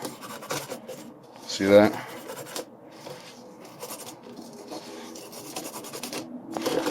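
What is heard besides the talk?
salt rubbed against rusty nails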